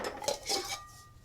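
A small backpacking cooking pot clatters and clinks as a stove, lighter and isobutane fuel canister are nested inside it, with close metallic knocks and scrapes.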